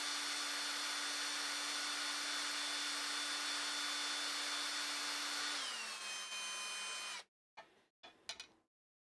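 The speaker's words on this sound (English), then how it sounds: "just running a drill through all the currently exposed holes" A power drill runs steadily through exposed holes in an LH Stinger kit part, a loud continuous whine that drops in pitch near the end, then cuts off with a few short bursts.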